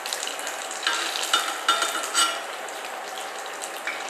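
Vellai paniyaram sizzle in hot oil as they are flipped, a bright, constant frying hiss punctuated by small metallic clicks and scrapes of the utensil, heard up close with no talking.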